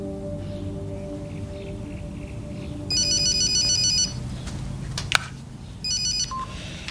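A telephone rings in two short bursts of electronic trilling, one at about three seconds and a second near six seconds. A low musical hum plays underneath, and there is a brief sharp click between the rings.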